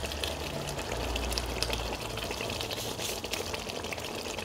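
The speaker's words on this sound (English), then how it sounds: "I'm going to pour this one inside." Liquid is poured into a pot of Nigerian stew, a steady splashing gush that runs continuously and stays close and fairly loud throughout.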